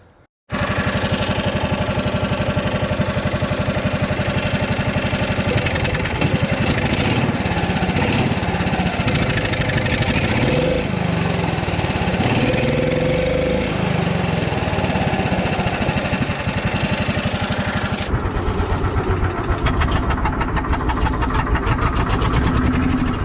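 A John Deere Gator engine with a suspected carburetor problem idles steadily and loudly up close, a continuous rough mechanical drone that shifts tone slightly midway and near the end, with no talking.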